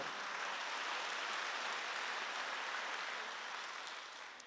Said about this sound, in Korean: 박수로 응하도록